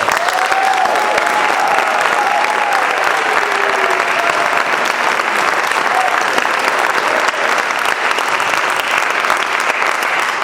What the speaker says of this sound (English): let's just all give them one final round of applause